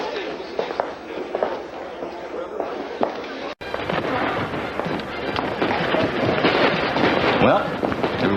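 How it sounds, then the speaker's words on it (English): An outdoor fireworks display crackles and booms continuously, a dense spread of bursts and pops heard from a distance with people talking faintly underneath. "Fireworks will commence outside."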